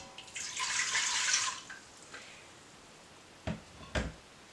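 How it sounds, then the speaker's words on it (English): Two cups of water pour steadily into an Instant Pot for about a second and a half, then trail off, followed by a few faint clinks and two sharper knocks. "I'm going to go ahead and add 2 cups of water to this"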